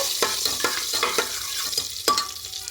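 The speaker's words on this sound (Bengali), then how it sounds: "প্রথমে খুব ভালো করে একটু নাড়াচাড়া করে নেব" A spoon scrapes and stirs potato curry frying in a pan, with repeated close scraping strokes over a soft sizzle.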